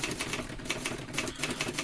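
Rapid, uneven clacking of typewriter keys being struck, close and continuous with no pauses.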